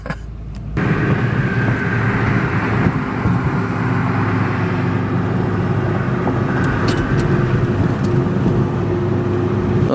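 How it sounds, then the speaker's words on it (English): A 3-valve V8 rear-wheel-drive manual car, an autocross build, drives along with a steady, loud engine rumble and road noise that hold for the whole stretch after a brief start. "it's a really solid platform for him to get into a V8 manual, rear-wheel drive car"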